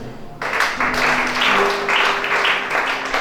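An audience bursts into loud, sustained applause, many hands clapping densely together after a brief quiet start, at a gathering about pastors.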